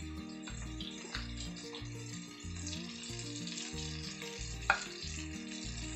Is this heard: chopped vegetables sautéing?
yes